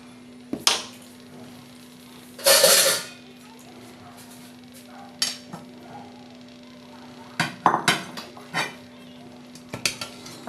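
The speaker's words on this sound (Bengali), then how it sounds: "এবার আমি এটাকে বাটিতে নামিয়ে নেব।" Chhanar payesh, a Bengali milk sweet, is moved into a bowl with scattered clinks and scrapes of a utensil on metal and ceramic, including one longer scrape, set over a steady low kitchen hum.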